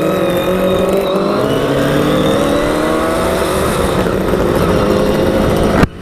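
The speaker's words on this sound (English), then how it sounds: "What an amazing noise of both these bikes together." Two of Allen Millyard's Kawasaki 350 Four two-stroke motorcycles ride together, their engines blending into a loud, steady, buzzing drone with layered harmonic tones that shift slightly as the revs change.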